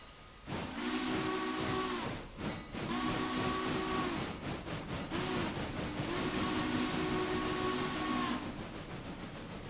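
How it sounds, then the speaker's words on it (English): A locomotive in the train simulator game Railroader blows a steam whistle in several long, loud blasts, separated by short breaks, over a steady hiss and rumble as it pulls away. "Nice, powerful sounding locomotive"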